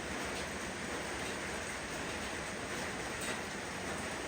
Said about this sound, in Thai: ฝนก็ยังตกอยู่